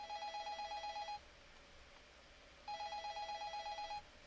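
A telephone rings in the game Forest of Drizzling Rain: two electronic ring bursts, each about a second long, separated by a pause over a quiet background hum.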